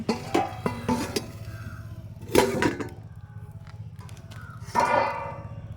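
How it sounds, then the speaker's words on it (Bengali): Metallic clinks and clatters of a lid being lifted off a pan of thin rice-batter pitha, several sharp close knocks and scrapes scattered over a low steady hum, with no talking. "এবার আমি ঢাকনা খুলে দেখে নেব"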